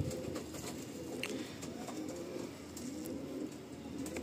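Madrasi pigeons coo steadily in a loft, a dense low murmur of overlapping calls running throughout at moderate volume, with faint chirps and rustling on top.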